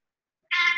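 A very old cat gives a single short, close meow after near silence, sounding alone during a quiet late-night yoga session.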